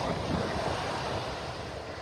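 Steady roar of ocean surf washing onto Vanderbilt Beach in North Naples, mixed with rain and gusty wind buffeting the microphone, continuous and loud.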